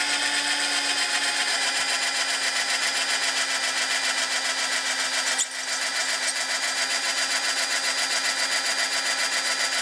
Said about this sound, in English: this is just a cheapo from Big W drill